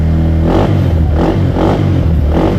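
An idling engine being warmed up before setting off, its low steady rumble rising into repeated revs in a pulsing rhythm, close and loud with no talk.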